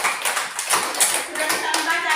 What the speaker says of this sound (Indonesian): Kita tepuk tangan sekali.